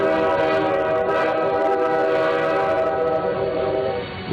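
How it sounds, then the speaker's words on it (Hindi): At a railway station, a train whistle blows loud and continuous, a steady layered horn tone that carries for several seconds before it begins to fade. "इसी दौरान रेल की सीटी बजी।"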